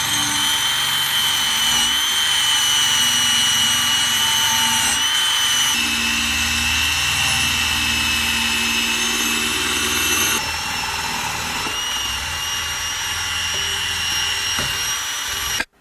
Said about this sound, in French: Bon, j'ai fini de poncer.